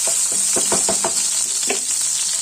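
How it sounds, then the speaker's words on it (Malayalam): Sliced onion sizzles in hot coconut oil with garlic, ginger and green chili. A steady bright frying hiss is broken by a cluster of spatula scrapes and stirs, then cuts off sharply. "അപ്പോൾ ഞാൻ സവാള ഇട്ടും ഇനി ഇതൊന്ന് വഴറ്റിയെടുക്കാം"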